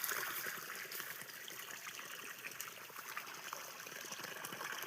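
Irrigation water from a motor pump pours steadily into a sugarcane field, a continuous close splashing trickle with no voices.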